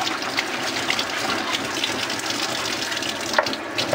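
Ceiling paint pours steadily out of an upturned 5-gallon bucket into a drain, a continuous close liquid gush and splatter with no talking.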